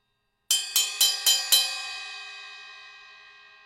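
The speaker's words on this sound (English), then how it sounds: "One heck of a strong bell on here." Five rapid strikes on the bell of a Zildjian cymbal, bright and cutting, evenly spaced, then a long shimmering ring that slowly fades, close and alone.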